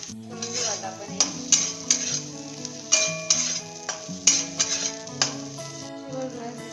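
Chopped leftover idli fries in a pan as a spoon stirs it, giving repeated metallic scrapes and clinks in an uneven rhythm over a steady sizzle, with soft background music and no talk.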